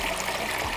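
Mountain brook flowing down a Peak District clough, a steady close broadband rush of water running without a break and with no voices.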